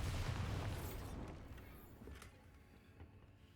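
The Bombarda spell in the video game Hogwarts Legacy detonates in a loud, deep blast whose rumble fades slowly over a few seconds.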